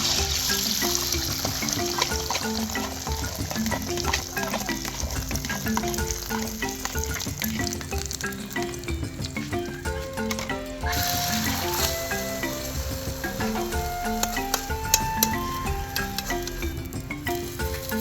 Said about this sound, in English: A little oil goes into the pan and we fry the eggs until beautifully golden.